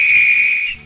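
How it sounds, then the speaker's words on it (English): A railway guard's whistle sounds one loud, sustained, shrill note that holds steady and then fades at the end. "That's my guard's whistle."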